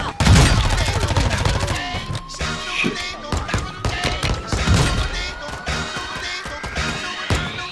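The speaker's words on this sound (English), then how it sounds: "What is he shooting at?" Gunfire in the video game Warzone 2: dense bursts of sharp shots and heavy thuds, loud and close at first, then thinning into scattered reports.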